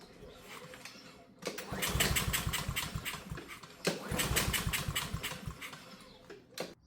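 A Honda lawn mower that has gas and oil but won't start is pull-started twice, each yank giving a loud burst of rapid engine chugging that sputters out without catching, with a quiet pause between the two pulls.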